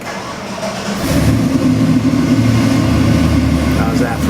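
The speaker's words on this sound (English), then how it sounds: "right, Mike, we got your 1970 Chevy Camaro LS7 441 cubic inch engine on the dyno" A Chevrolet LS7 441 cubic inch crate engine for a 1970 Chevy Camaro starts on a dyno, cranking briefly and then firing into a loud, rumbling idle that runs steadily close by.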